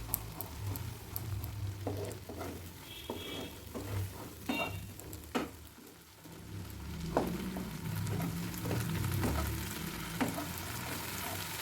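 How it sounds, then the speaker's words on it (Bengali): Spice paste of ground poppy seeds, cashews, melon seeds and green chillies frying in a pan for a cauliflower dish, a steady close sizzle broken by repeated spatula scrapes and taps. "সেটা ভালো করে মশলাটা একটু কষিয়ে নিচ্ছি"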